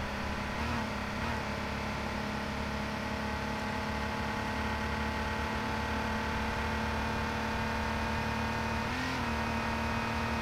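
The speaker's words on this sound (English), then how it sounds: "God, I feel like this car is just going like thousand miles per hour right now." A car engine in a video game drones at a constant high pitch, sustained and loud throughout, with only slight shifts in tone.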